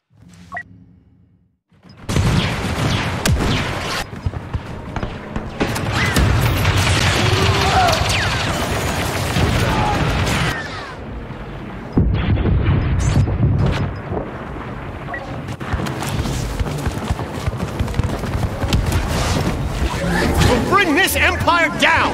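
Blaster fire and explosions hitting an AT-AT during a Galactic Assault battle on Endor in Star Wars Battlefront 2, a dense, loud, continuous barrage of bursts and roaring blasts, with voices heard throughout.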